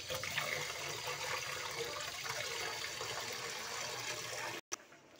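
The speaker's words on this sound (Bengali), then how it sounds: "বেশি করে জল দিয়ে ভালোভাবে আমি শাকটাকে ধুয়ে নেব।" Red amaranth greens being washed in plenty of water, making a continuous rushing, splashing wash of water up close that cuts off abruptly near the end, with no voices.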